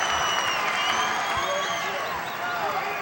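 At a 1984 high school intersectional wrestling final, a large crowd applauds and cheers in a steady, dense roar of clapping and voices that holds across the whole stretch.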